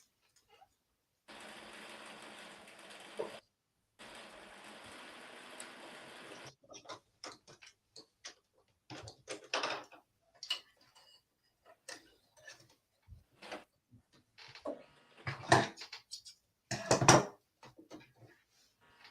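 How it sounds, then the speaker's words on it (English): A sewing machine stitches buttonholes in white thread, with two sustained runs of rapid motor-driven stitching followed by scattered short ticks and clicks of needle and mechanism in a quiet room. "definitely doing my buttonholes in the same white thread"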